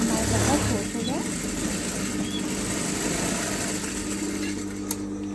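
A sewing machine stitches blouse fabric with a steady, fairly quiet mechanical whir that runs continuously for a few seconds.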